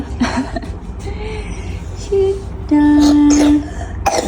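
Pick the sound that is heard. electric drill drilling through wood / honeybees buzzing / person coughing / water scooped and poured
person coughing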